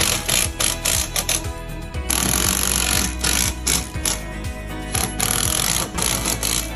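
Lag screws are driven directly into wood with a power driver for an outdoor gas heater mount, loud close bursts of rapid rattling impacts stopping and restarting several times.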